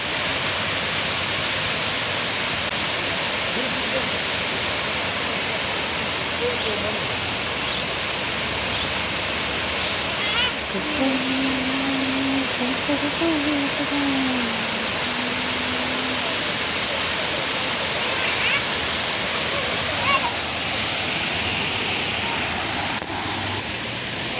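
A waterfall pours in a steady, broadband roar that fills the whole stretch evenly and stays close, with no clear break.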